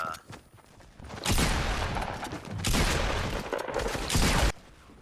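Rapid shotgun and rocket fire in Fortnite, three dense loud bursts of gunfire and blasts separated by brief quieter gaps.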